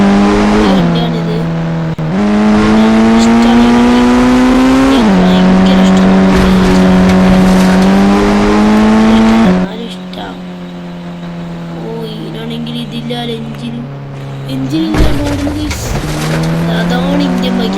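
An SUV driven in the Indian Bike Driving 3D game, a loud steady engine drone that rises in pitch as it revs, drops, then climbs again, with tire squeal, and a person talking over it.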